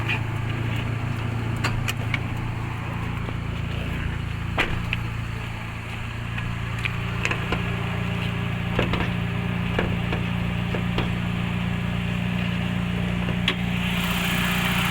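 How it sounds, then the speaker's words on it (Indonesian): A 2000 Suzuki Baleno sedan engine idling with a steady low rumble and hum, continuous and close, with a few faint clicks and ticks on top. "ini mesin dari Suzuki Baleno tahun 2000 teman-teman"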